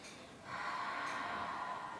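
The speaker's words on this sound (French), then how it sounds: "Encore une belle respiration." A deep breath is taken during a beginner Pilates stretch. It is a soft, airy inhale that swells about halfway through and is sustained to the end. It is close but quiet, with no talking.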